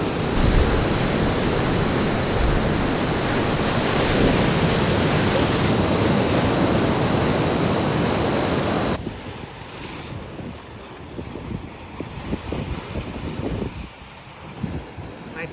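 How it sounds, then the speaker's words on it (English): Ocean waves break near the rock pools at Agnes Water, a steady, loud wash of surf with heavy wind buffeting the microphone that eases partway through. "This next big wave."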